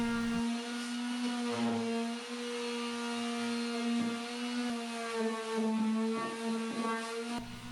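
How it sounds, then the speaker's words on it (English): A power sander works the wooden surface of a nightstand down to bare wood, a steady high-pitched motor whine with strong harmonics that wavers slightly as the pad moves, near and loud without talking. "I'm also sanding this surface down to bare wood as well."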